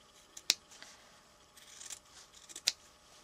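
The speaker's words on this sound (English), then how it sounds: "you might want to just snip into it, being really careful not to cut the stitches" Scissors snip into a sewn fabric seam, two sharp little clicks close by and well apart, with soft cloth handling between them.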